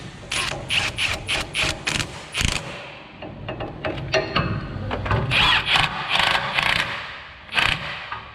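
A ratchet clicks in quick bursts while tightening the steering rack bolts on a Toyota Tacoma, close sharp pawl clicks with a short gap before another run of turns.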